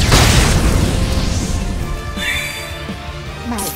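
A fire spell in Octopath Traveler II ignites with a loud, roaring burst that fades over a couple of seconds, followed by brief chiming magic tones and a short swoosh near the end.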